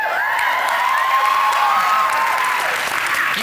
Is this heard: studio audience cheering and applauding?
yes